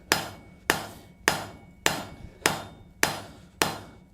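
Copper tong reins are forged on an anvil with seven sharp, ringing hammer blows struck at an even, unhurried pace, each close and loud with a short decaying ring.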